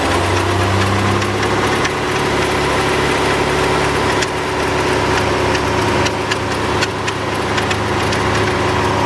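A 2008 Chrysler Pacifica's 4.0 liter engine runs at a steady idle with a faint ticking knock, close and loud with no talking.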